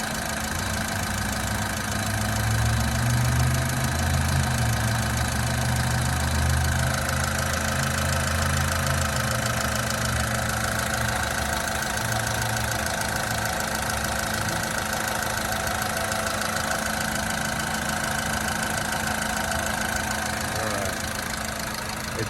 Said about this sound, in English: But listen to it run. Sounds like a little sewing machine, like a good Honda should.